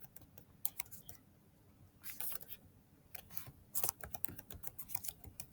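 Bursts of computer keyboard typing while a field parameter is built in Power BI, quick irregular clicks in clusters with short pauses, close and fairly quiet, no talking.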